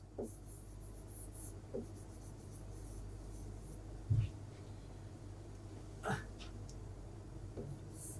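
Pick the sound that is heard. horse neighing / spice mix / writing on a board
writing on a board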